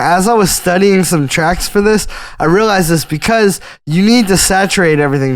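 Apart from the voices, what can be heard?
No everyday noise stands out behind the speech.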